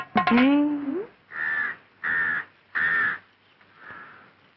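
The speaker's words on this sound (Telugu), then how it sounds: "పల్లెటూరి పక్షులు." Village birds caw from nearby in four evenly spaced harsh calls, the last one weaker, after an opening burst of a brief rising vocal sound.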